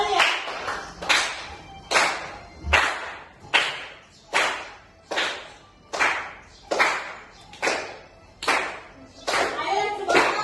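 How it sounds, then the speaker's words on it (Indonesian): A group of children clapping their hands together in a classroom, a long run of regular loud claps at a steady beat of about one per second, close and even. "Ayo tepuk tangan ya."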